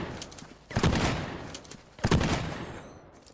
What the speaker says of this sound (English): It's the shotgun, bro.